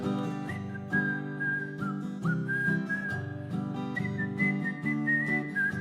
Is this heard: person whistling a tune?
yes